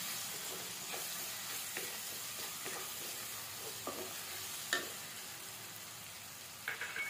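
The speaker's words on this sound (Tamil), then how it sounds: "இப்போ நம்ம வந்து பச்சை கருவேப்பிலை, பச்சை கருவேப்பிலை வந்து எண்ணெயில் வறுத்துருவோம்." Fresh curry leaves fry in hot oil for a chana-style peanut masala, giving a steady close sizzle with scattered pops and the scrape of stirring.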